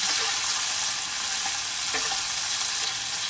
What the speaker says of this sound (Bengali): এবার এটাকে একটু ভালো করে সাঁতলে নেব যতক্ষণ না পর্যন্ত টমেটোটা নরম হয়